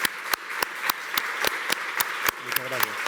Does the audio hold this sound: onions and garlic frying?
no